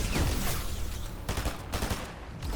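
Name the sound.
AI enemy shooting gunfire in Fortnite video game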